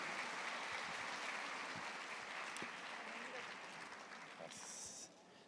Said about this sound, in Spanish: Un fuerte aplauso, Fray Tomás Chávez.